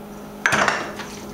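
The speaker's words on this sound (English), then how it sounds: "Mix your meat all up with this oil." Meat being stirred with oil in a cooking pot gives a brief clatter of utensil against metal, a couple of close scraping knocks in the middle of an otherwise quiet moment.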